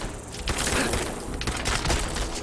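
Rapid bursts of gunfire in Fallout 4, dense and loud with several sharp shots clustered together, no one talking over them.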